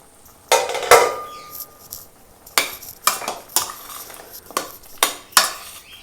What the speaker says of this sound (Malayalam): നമുക്കിനി നമ്മൾ കുക്കറൊന്ന് തുറന്ന് നോക്കാം.